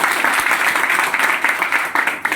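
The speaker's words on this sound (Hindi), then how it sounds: "एक बार जोरदार ताली" Audience applause at an event, dense and loud clapping from many hands sustained evenly for a couple of seconds.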